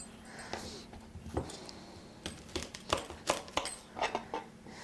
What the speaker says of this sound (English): I'm going to cut them into